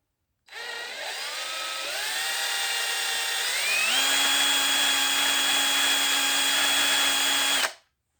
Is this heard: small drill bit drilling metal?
yes